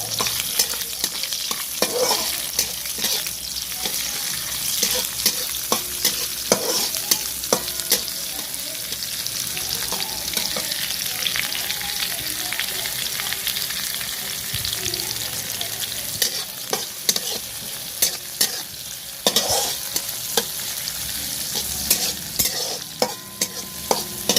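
Chopped onions frying in oil in a pan for egg tadka, a continuous loud sizzle with frequent clacks and scrapes from stirring throughout.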